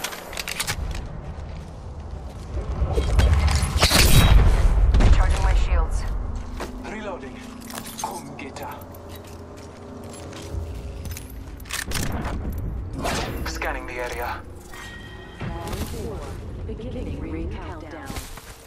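Bursts of rapid gunfire ring out in the Apex Legends battle royale video game, sharp repeated shots crackling amid clattering game effects while a character's voice speaks at times.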